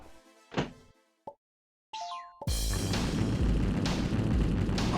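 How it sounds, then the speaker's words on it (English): A loud, deep explosion in the video game I wanna be the Cocktail bursts in after a few brief game tones and a short silence, then rumbles on as a sustained, heavy roar to the end. "an explosion surrounds me here"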